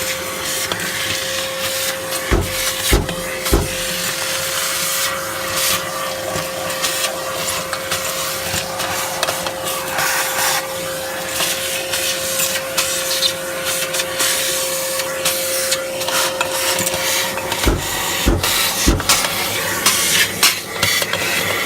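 A vacuum cleaner sucking soot out of a masonry stove during chimney sweeping, a loud continuous whine with a steady tone, broken by brief knocks and rattles as the nozzle moves inside.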